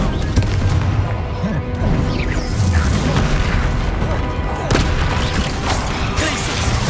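Explosive spell blasts from the Bombarda spell in Hogwarts Legacy sound out as loud booming crashes amid a busy, dense combat mix of game effects, with a voice talking over part of it.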